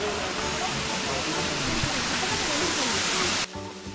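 Iruppu Waterfall, a waterfall among hills and black rocks, gives a steady, loud, close broadband rush that stays even and continuous and then drops off abruptly just before the end.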